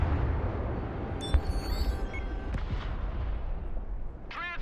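Gunfire and explosions in the video game Broken Arrow: a heavy blast and several sharp shots crack over a rumbling battlefield din, with faint radio chatter and a brief whistling sound near the end.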